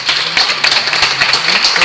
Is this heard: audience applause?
yes